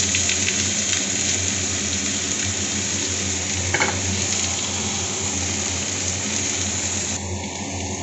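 Cucumbers dropped into hot mustard oil tempered with dried red chilli and black mustard seeds, giving a steady, loud, continuous sizzle that holds evenly throughout with no talking.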